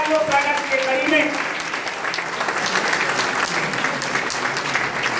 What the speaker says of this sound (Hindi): जोरदार ताली बजाइए आप लोग स्वागत के कड़ी में।